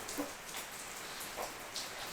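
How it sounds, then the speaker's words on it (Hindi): A small chicken piece drops into hot oil on a low-medium flame and fizzes with a soft, steady crackling sizzle, fairly faint and continuous, with a few slightly louder pops. "इसमें एक छोटा सा चिकन का पीस डाल के देखती हूँ।"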